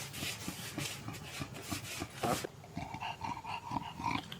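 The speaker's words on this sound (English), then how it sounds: "Do we got all sorts of dogs, Jane?" Dogs on a homestead farm make rough, rhythmic growling and scuffling noises at close range, a steady run of short bursts with no talking.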